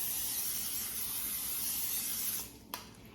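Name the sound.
olive oil cooking spray spraying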